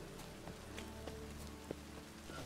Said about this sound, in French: J'aime bien quand il pleut.